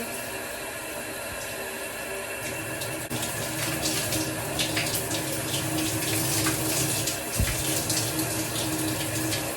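Running water from a shower pours in a steady, close hiss, growing slightly fuller after a few seconds, with occasional splashes and small knocks and no voices.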